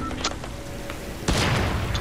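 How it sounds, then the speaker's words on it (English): Fortnite explosion: a loud, broad boom hits after a stretch of lighter game noises and small pops, then trails off in a rough rumble. "He just exploded himself."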